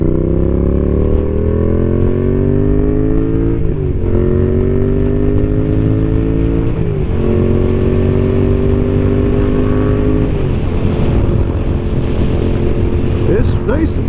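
Yamaha MT-07 motorcycle cruising on a highway on a sunny, chilly day, its engine droning steadily with rising and falling revs through gear changes, heavy wind rush over the microphone throughout.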